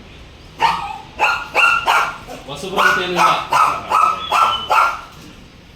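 Dogs at a dog-breeding farm bark in a quick series of sharp, close barks, nearly ten in a row, while someone talks over them.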